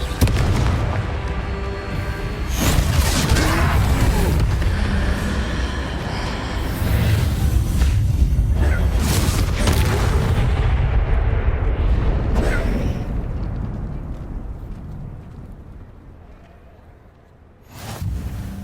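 Confringo blast curse explosions in a Hogwarts Legacy troll fight, a long run of loud, close booming blasts and crackling bursts that rumble on, fade toward the end, then one more sharp burst.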